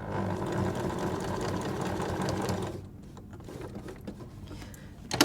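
A sewing machine stitches quilt binding through about four layers of cotton and two layers of toweling, running in a steady, close, loud whir before stopping, followed by softer mechanical clicks and handling sounds.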